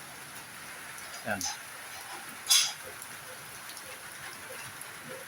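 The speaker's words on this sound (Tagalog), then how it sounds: "Ngayon, lumakas-lakas naman ulan." Steady rain falls outdoors as a broad, constant hiss, with a couple of brief nearby knocks and a voice speaking briefly over it.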